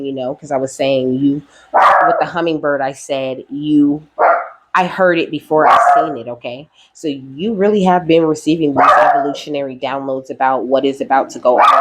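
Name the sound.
dog barking indoors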